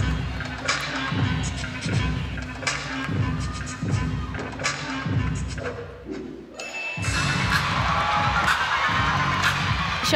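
Crowd at a Florida at Auburn college gymnastics meet cheering and clapping, rhythmic thumping through the first part, then a swelling wall of loud applause and shouts near the end, with a commentator talking over it.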